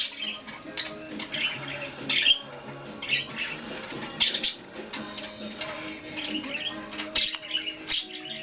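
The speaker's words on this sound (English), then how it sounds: "Birds are enjoying it thoroughly." Birds chirp and tweet continuously in busy, overlapping calls, moderately near, with soft music faintly underneath.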